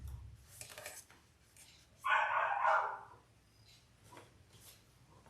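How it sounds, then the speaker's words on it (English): Dogs bark from their pen a short way off, a burst of loud, harsh barking and yipping lasting about a second in the middle, with fainter yaps and whimpers before and after. "They're barking."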